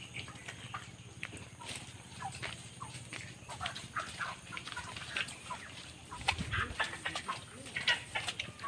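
Poultry cluck and squawk intermittently while being carried in bags along a muddy road in rainy weather, with scattered rustling and a few louder bursts near the end.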